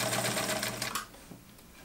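A Kenmore 1752 sewing machine runs a straight stitch through webbing on two layers of 1000D Cordura, a brief fast mechanical whir of rapid needle strokes that stops after about a second.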